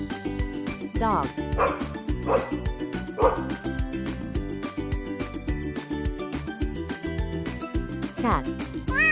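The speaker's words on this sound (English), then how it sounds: "Dog." A dog lets out a short series of yipping barks spaced about a second apart, then one more bark near the end, all over steady background music.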